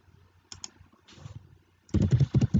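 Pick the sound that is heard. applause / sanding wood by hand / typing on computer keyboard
typing on computer keyboard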